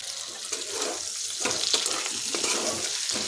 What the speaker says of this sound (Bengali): শিমটা ভালো করে ভেজে নিলাম।